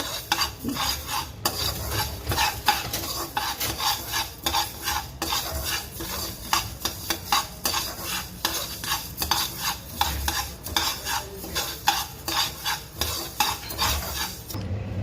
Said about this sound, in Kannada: ಇದನ್ನು ಚೆನ್ನಾಗಿ ಡ್ರೈ ರೋಸ್ಟ್ ಮಾಡ್ಕೋಬೇಕು